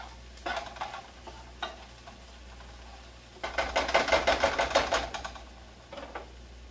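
Onions being stirred as they fry in a pan for a sausage dish, with a few scrapes, then a louder burst of rapid rhythmic stirring and sizzling near the end, close and fairly clear.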